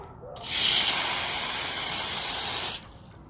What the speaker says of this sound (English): you can just spray it